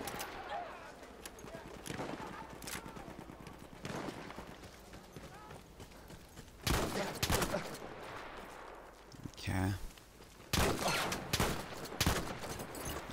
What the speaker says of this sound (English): I didn't win that gunfight, obviously.